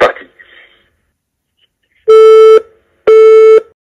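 A Geemarc AmpliPower 50 amplified telephone sounds two loud, steady electronic tones after hanging up, each about half a second long, following a brief burst of handling noise.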